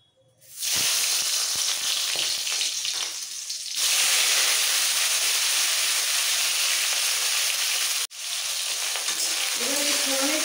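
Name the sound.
tomato pieces frying in tempered oil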